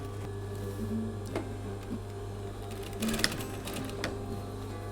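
A sewing machine stitches the hood seam of a sun cape, a close steady mechanical hum with rapid ticking needle strokes and a few brief clicks and pauses, with no talk.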